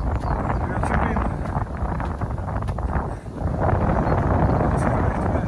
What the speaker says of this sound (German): Ganz schön Wind.